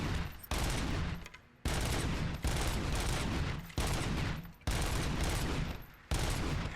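Loud, continuous automatic gunfire in the video game RoboCop: Rogue City, delivered in long sustained bursts separated by brief pauses, with no talking.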